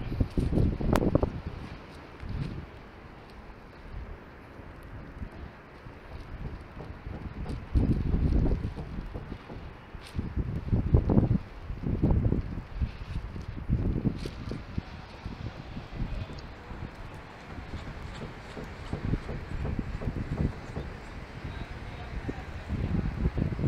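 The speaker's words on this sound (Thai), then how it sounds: "ลมแรงๆบนดาดฟ้า ดูว่าเป็นยังไงบ้าง" Strong wind buffeting a phone microphone on a sunny rooftop, heard as rumbling low gusts that swell and fade irregularly throughout, loud and close with no talking.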